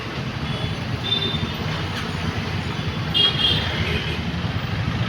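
Heavy street traffic rumbles through a busy Chennai junction without signals, a dense continuous roar of passing vehicles with brief higher whines from engines.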